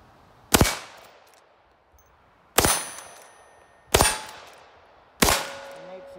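Four sharp, loud gunshots from a Winchester 94 lever-action rifle in .22 magnum, fired at targets outdoors, spaced about a second or two apart, each with a short ringing decay.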